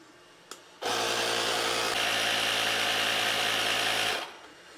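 An electric air pump inflates the tire of a KingSong 16X electric unicycle toward 25 PSI, a steady buzzing motor drone that switches on, runs evenly for about three seconds, then winds down.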